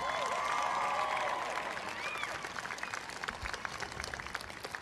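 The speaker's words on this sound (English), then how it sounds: "One more round of applause." An auditorium crowd at a university freshman convocation applauds, a distant wash of clapping with faint cheering and whistles that slowly thins out.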